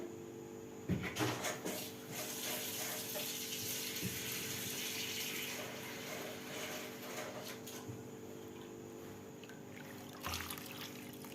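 Water runs and splashes faintly into a pot of cauliflower during cooking, joined by a few light clinks and knocks of kitchenware, with no talking over it.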